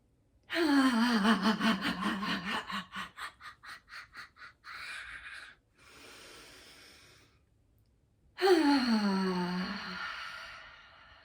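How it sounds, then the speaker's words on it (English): A person breathes in deeply through the nose in a shaky, pulsing draw, then lets out a sigh-like exhale; after a pause, a second long nasal inhale follows, close and clear. "So another inhale in through the nose."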